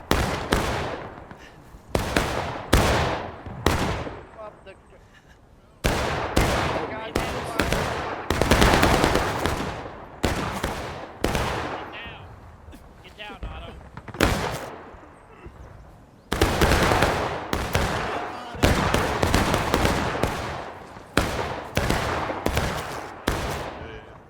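Musket volleys in a pitch-black night battle of a Maryland Campaign Civil War video game with hundreds of players, loud crackling rolling fusillades in repeated bursts with short pauses, some distant talk beneath.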